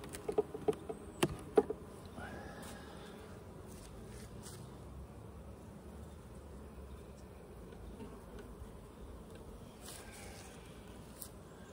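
Steady honeybee buzzing from an open hive during an inspection fills the background throughout, with a few sharp clicks and knocks near the start.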